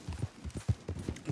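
Horse hooves in Red Dead Redemption 2 beat out a quick, regular clip-clop, several close, evenly spaced thuds.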